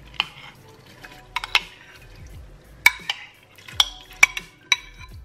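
Washed rice being stirred in a Ninja Foodi pot, a few sharp metallic clinks and scrapes of a utensil against the pot spaced irregularly, close and distinct against a quiet background.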